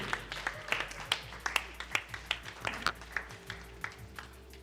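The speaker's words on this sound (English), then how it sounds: "once again give a round of applause to the winners" Scattered hand claps from a small group at an inter-school cycling esports and freestyle skills prize-giving in Singapore, ringing out in an uneven rhythm, fairly close, gradually thinning toward the end.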